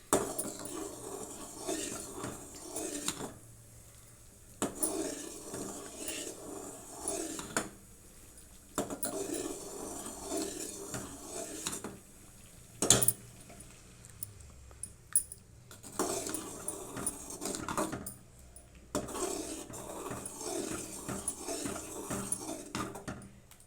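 Upma semolina is stirred in a pan, the spoon scraping and clinking against metal in repeated bursts separated by quiet pauses.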